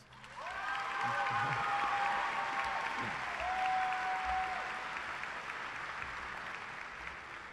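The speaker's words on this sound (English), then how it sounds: "Please give them a round of applause." Audience applause at a 2018 Hutto high school graduation ceremony, a broad steady wash of clapping from a large hall crowd, with a few faint tonal whistles or cheers rising over it midway before it slowly tapers.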